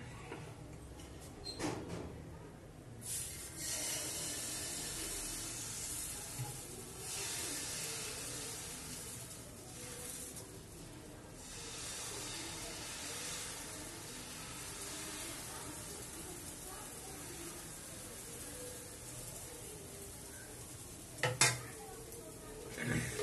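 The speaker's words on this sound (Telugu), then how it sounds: "ఇప్పుడు దోశ పోద్దాం" Maida and rava dosa batter poured and spread on a hot pan gives a long, steady sizzle and frying hiss, with scraping, stirring and occasional clinks of cookware.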